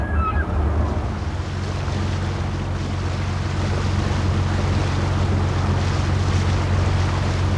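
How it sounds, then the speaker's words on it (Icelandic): Small fishing boats moving about Ammassalik harbour in East Greenland, heard as a steady low engine drone with water wash and wind across the microphone, continuous and moderately loud with no talk. "Litlir fiskibátar á sífelldum þeytingi meðan sumarbirtuna nýtur."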